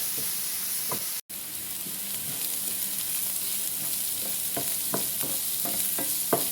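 Onions sautéing in a pan on the way to a stuffed squid dish, a constant hissing fry broken by regular spatula scrapes and taps, close and alone with a brief dropout early on.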